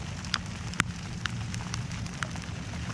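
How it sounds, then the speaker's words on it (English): Rain patters steadily during a teal duck hunt in a pirogue in Louisiana, with scattered louder drops tapping a nearby surface, no voices. "And here comes the rain again."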